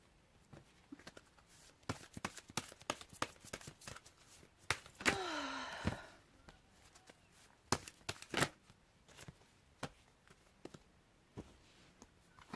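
Tarot cards being shuffled by hand during a card reading: scattered soft riffles and clicks, close and quiet, with one longer riffle burst in the middle and intermittent taps between.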